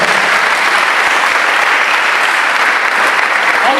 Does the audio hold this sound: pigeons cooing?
no